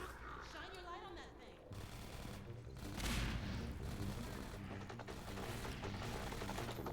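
Shotgun blasts and gunfire in the video game Half-Life 2 Episode 1, a few sharp reports amid game clatter and mechanical noise, fairly faint, with a person talking over it.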